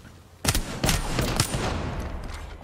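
Shots burst from a player's weapon in a shooter game, a rapid cluster of sharp loud reports followed by a sustained rattling roar of continued fire.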